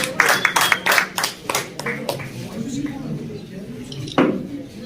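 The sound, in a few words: audience applause for certificate recipients at pigeon tournament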